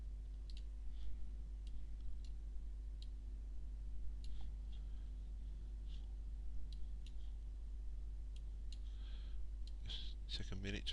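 A computer mouse clicking while working in garage service and MOT reminder software: scattered soft, sharp clicks at irregular intervals over a steady low background hum.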